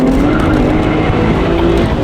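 A turbocharged BMW 135i pulls hard under boost, its engine a loud, steady droning roar for about two seconds, with no clear break audible in the pull.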